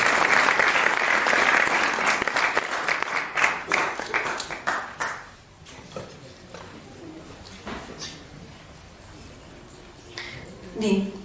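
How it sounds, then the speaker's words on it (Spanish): Audience at a tourism lecture applauding a speaker, loud and dense at first, then thinning into scattered claps over about five seconds, followed by quieter room noise and talk. "Vamos a invitar con un voto de aplauso, por favor, a la licenciada Marisela Tello Silva."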